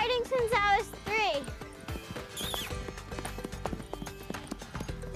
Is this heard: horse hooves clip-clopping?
yes